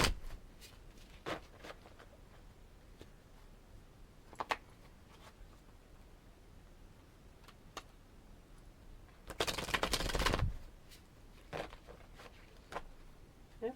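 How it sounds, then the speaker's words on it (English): Oracle cards being shuffled in short, crisp riffling bursts scattered across the quiet stretch, with one louder sustained shuffle in the middle, close and fairly soft. "Hopefully the shuffling isn't too loud."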